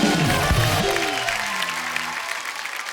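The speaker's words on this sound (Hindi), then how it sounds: "चंदन के लिए जोरदार तालियां है मेरा भाई।" Studio audience applause on a Hindi TV comedy show, loud and full at the start and gradually fading, with a voice speaking over it early on.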